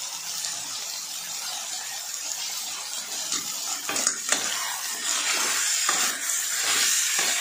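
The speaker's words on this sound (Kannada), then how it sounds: "ನೋಡಿ, ಮಟನ್ ಚೆನ್ನಾಗಿ ಫ್ರೈ ಆಗ್ತಾ ಇದೆ" Mutton chops sizzle steadily in a pan while salt and turmeric go in, a continuous bright hiss with occasional scraping stirs and small clinks, fairly close and with no voices.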